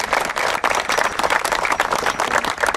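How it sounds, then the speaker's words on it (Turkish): A crowd claps for a Sancaktepespor football team celebrating an unbeaten championship season, with steady, dense applause that swells and dips slightly over a few seconds. "Kendinize alkış."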